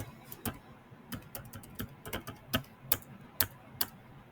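Fingers tapping on a computer keyboard, an uneven string of crisp, close keystroke clicks with short pauses between bursts.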